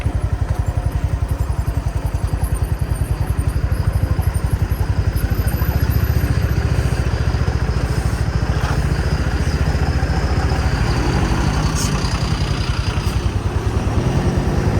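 A motorcycle engine thrums steadily while riding, close and loud, with an even pulsing beat and wind rush over the whole stretch.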